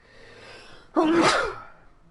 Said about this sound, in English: I know I can sneeze quite loudly